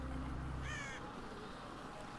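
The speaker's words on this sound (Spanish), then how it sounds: "¿Que haya cuervos?" Crows caw twice in quick succession in The Walking Dead: Michonne video game, standing out briefly over a steady low background hum with no talk.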